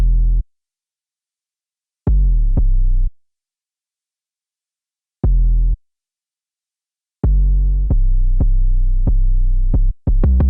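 Deep booming 808 bass notes in a sparse rhythm, some short and some held, each with a sharp click attack, growing denser toward the end.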